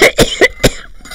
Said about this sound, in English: My cough is much better.